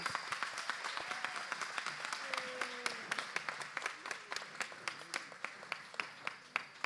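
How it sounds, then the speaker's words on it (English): An audience gives a round of applause for ukulele students about to perform, a dense burst of clapping that thins toward the end into scattered individual claps. "Let's give them a round of applause."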